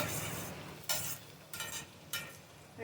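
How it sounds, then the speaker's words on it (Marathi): A spice mixture with ginger-garlic paste is sautéed in a pan for Vidarbha-style dahi misal, a soft steady sizzle broken by three sharp scraping stirs from a spoon. "आता आपण मिक्स करून छान एक मिनटं परतवून घेऊया"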